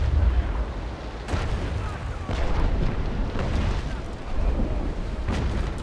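Ship cannons firing in the naval sailing game Naval Action: deep, booming blasts come in several heavy waves with rumbling echoes between them, loud and close.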